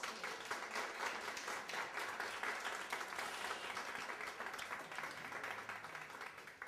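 Sustained applause from a lecture audience, steady and dense clapping from a crowd that fills the room for several seconds without letting up, with a few voices faintly mixed in.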